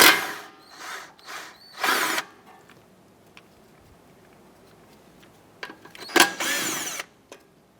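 Nuts holding an ABS wire are backed off with a 10mm socket on the front knuckle of a 2004-2008 Acura TL, likely on a power tool, heard as two close bursts of whirring, one near the start and one near the end, with quiet between.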